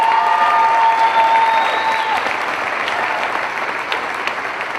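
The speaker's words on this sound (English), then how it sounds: "Fans, please join us in giving one more big round of applause for our seniors" Women's basketball fans in a gym give a warm round of applause for the seniors, loud steady clapping with some cheering, a brief whistle-like tone early on, slowly easing off toward the end.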